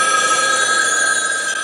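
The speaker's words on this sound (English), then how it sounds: "Suddenly my dorm phone was ringing off the hook." A dorm room telephone ringing off the hook, a steady, bright electronic trill held without a break, loud and close, with no one speaking over it.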